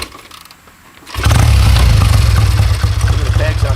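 A 1972 Triumph T100R Daytona motorcycle is kickstarted in a museum, with a quiet shuffle before the engine catches and roars up loud, then settles into a throbbing, close idle.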